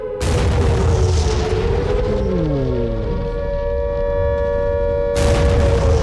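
A ballistic missile strike in the war game Regiments lands as a heavy rumbling boom, with a wailing siren-like tone sliding downward through the middle and a second loud burst near the end.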